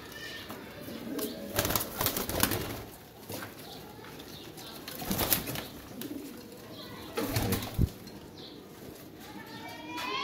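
Ali Wala Teddy pigeons in a loft coo softly in short bursts, with occasional sharp wing flaps and scuffling nearby, the birds fairly close but quiet against a faint background.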